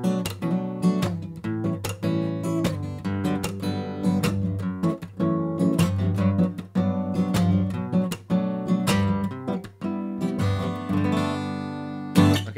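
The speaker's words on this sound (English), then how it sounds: "So the first finger style pattern we're gonna do is gonna sound like this." Acoustic guitar played fingerstyle with a thumbpick, a busy pattern of bass notes under plucked melody strings, close and continuous for about twelve seconds with no talking.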